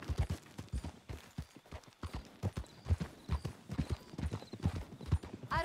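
Horse hooves clip-clop in a steady, even rhythm in Red Dead Redemption 2, close and clear, with a faint whinny near the end.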